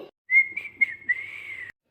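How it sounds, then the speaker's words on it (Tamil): Someone whistling a few short rising notes and then one long held tone, close and clear against near silence. "யாரடாவது விசில் அடிக்கிறது"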